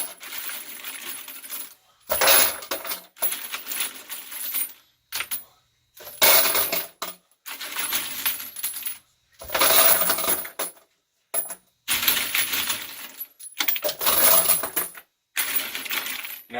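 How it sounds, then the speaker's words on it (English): Brass cartridge cases being moved out of a wet tumbler, clinking and jingling metallically in repeated bursts separated by brief pauses, close and fairly loud. "So what we'll do is we'll go ahead and move all this brass out."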